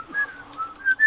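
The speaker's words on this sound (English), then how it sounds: "I whistle a little ditty" A person whistles a little tune, a few short bright notes with brief pauses between them, close and clear with no talk.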